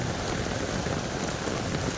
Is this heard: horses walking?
no